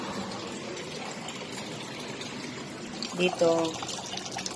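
Water drained from a cooking pot while preparing a home dish, giving a steady soft pouring and splashing under a brief spoken word, with a short gush of clinks near the end.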